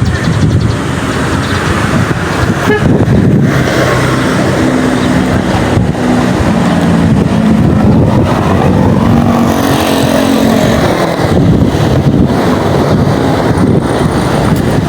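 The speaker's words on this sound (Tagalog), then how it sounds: "Mahangin kasi." Loud, gusty wind buffeting continuously in Manila, a rough roaring rumble with rising and falling surges throughout.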